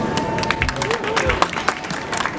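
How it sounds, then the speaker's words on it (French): A small group of about eight people claps in a city street, scattered, uneven handclaps close by, with voices talking over the applause. "merci pour les 8 personnes qui applaudissent"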